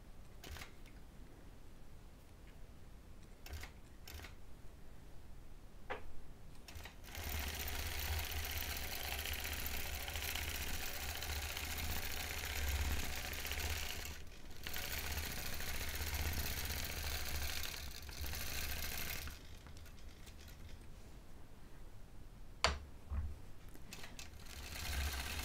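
A sewing machine with a channel lock sews a straight horizontal line across a small quilt, giving a steady mechanical whirring hum that runs in two long stretches with brief pauses. Quieter handling noises come before and after.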